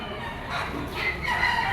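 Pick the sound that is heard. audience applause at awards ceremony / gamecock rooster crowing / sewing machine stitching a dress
gamecock rooster crowing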